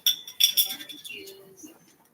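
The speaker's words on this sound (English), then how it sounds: "we are going to stir it up" Utensil clinks and scrapes against a dish while a summer dip is stirred, a few sharp metallic taps early then softer scraping, with a voice talking faintly in the background.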